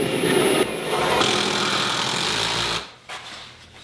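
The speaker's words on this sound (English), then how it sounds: "I'm just going to run a couple of screws through it for now." A power drill drives screws through sheetrock into a wall stud. Its motor whirs loudly and steadily for almost three seconds, then cuts off, followed by a short faint bump.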